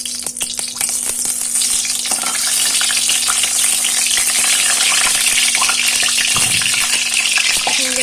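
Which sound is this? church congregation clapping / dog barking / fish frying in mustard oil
fish frying in mustard oil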